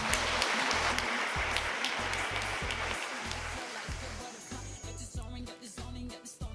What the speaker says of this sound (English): Round of applause for Stuart Coltes.